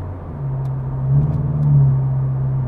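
A Toyota GT86 engine holds a steady, loud drone at about 4000 rpm with a slight rise in revs partway through, heard up close with no talking.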